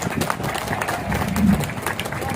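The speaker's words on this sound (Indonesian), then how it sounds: "tepuk tangan buat peserta baru Akademi Militer Magelang" Stadium audience applauding new Magelang Military Academy cadets at an opening ceremony, a moderate, continuous patter of clapping with crowd murmur beneath, swelling slightly midway.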